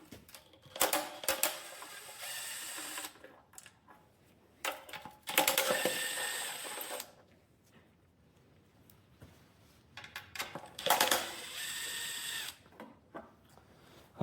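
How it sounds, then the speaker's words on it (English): Power tools whir in repeated bursts while a valve cover comes off a 383 engine, with short loud runs of a drill or ratchet separated by quiet pauses and light clinks of metal. "let's go ahead and get a valve cover off this thing."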